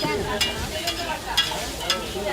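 Eggs frying at a Darjeeling street-food stall, a constant sizzle with regular metallic scraping strokes of a spatula roughly every half second, close by.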